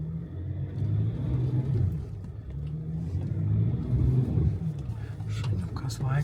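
A Porsche Cayenne crawling through deep muddy ruts: a low, continuous engine rumble that swells and eases with gentle revving and stays fairly steady across the run.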